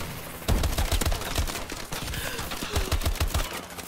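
Rapid bursts of automatic gunfire from a Call of Duty: Advanced Warfare multiplayer match on PS4, with repeated sharp shots clustered into fast volleys that stay loud and close throughout.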